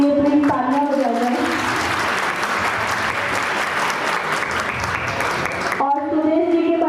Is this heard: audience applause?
yes